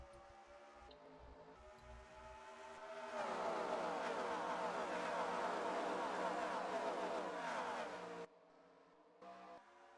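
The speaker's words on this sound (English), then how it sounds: "A lot of slow cars you saw at the back as this field powers off of turn number 2" NASCAR race cars in a Cup Series racing video game at Darlington drone and whine as the field powers off a turn. Engines build to a loud sustained roar under commentary, then cut off sharply near the end.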